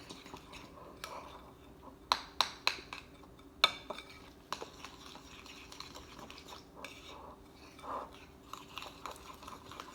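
Protein waffle batter with a whole egg being stirred in a bowl, with soft wet mixing sounds and several sharp clicks of the utensil against the bowl. The sounds are close and quiet over a low steady background hum.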